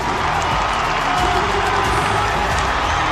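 A packed crowd at Adelaide Oval roars and cheers after Port Adelaide win an AFL match, a dense, continuous wall of cheering and applause with some voices mixed in.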